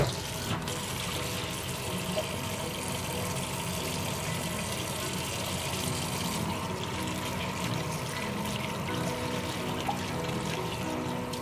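Water runs steadily from a kitchen tap while dishes are washed, a continuous broadband hiss and trickle at moderate level throughout, with no clear talking.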